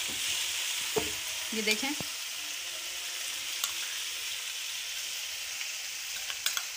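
Garlic ginger paste sizzling and frying in a hot pan for butt ka salan, a steady bright crackle with a few stirring scrapes and clicks, with a brief spoken remark near the start.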